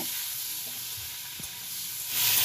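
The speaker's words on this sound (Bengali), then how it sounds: "এবার এই তেলেই ফোড়নে দিয়ে দেবো শুকনো লঙ্কা আর গোটা জিরে, একটা টমেটো দিয়ে ভাজতে দেব" Dried red chillies, whole cumin and a tomato sizzle in hot oil for a Bengali prawn curry, a steady close hiss that swells louder near the end as the tomato goes in, with no talking.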